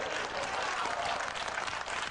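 Audience applause on a 1991 Siskel & Ebert television film-review show: a steady, dense wash of clapping that holds at an even level throughout, with no voices on top.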